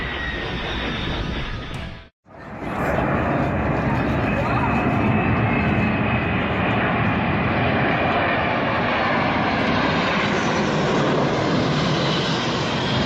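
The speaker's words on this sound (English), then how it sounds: "The local Air Force put on an amazing air show for the whole city." Military aircraft roar overhead at an Air Force air show in Brisbane, Australia, a loud continuous engine rush that cuts out briefly near the start and then returns at full strength.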